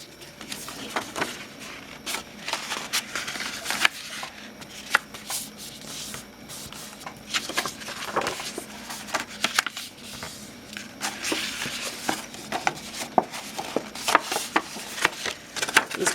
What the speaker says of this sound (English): you're going to want to start folding all of your score lines